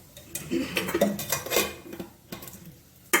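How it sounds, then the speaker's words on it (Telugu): Pan set on a kitchen stove with oil poured in for tempering a chutney, heard as a few light metallic clinks and scrapes of cookware, fairly quiet and close, with no talking. "స్టవ్ మీద వేరొక ప్యాన్ పెట్టుకొని కాస్త నూనె పోసుకోవాలి"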